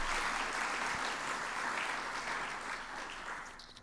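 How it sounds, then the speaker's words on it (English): An audience at a medical college honors night gives a round of applause, a dense, steady patter of many hands clapping that slowly fades toward the end, with no talk over it. "So we'll just give a little round of applause for Nikki, who can't be here."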